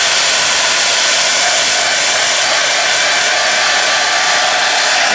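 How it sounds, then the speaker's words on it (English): A hair dryer blows steadily and loudly, a constant airy whoosh that runs without a break from start to finish. "So we're going to use the hair dryer on it and see if that works"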